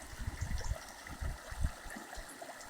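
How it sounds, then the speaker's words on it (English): Small waterfall spilling into Bear Lake in Ontario, heard as a soft, steady trickle and gurgle of running water with faint low rumbles, close to the microphone and with no talking. "I'm at a bit of a waterfall right here"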